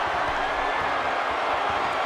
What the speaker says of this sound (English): listen to the appreciation this Columbus crowd is giving these superstars